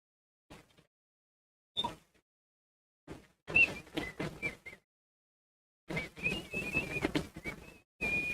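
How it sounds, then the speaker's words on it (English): Short bursts of human whistling come and go through a quiet stretch, several brief tonal phrases separated by silences, fairly close and moderately loud, with no talking over them. "That was whistling."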